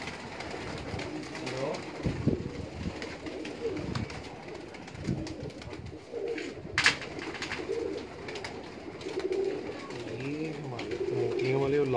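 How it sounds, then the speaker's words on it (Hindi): Lakha pigeons coo in low, repeated rolling calls amid a busy outdoor backdrop, with someone talking over much of it and brief higher sounds cutting in now and then. "लाखे कबूतर हैं।"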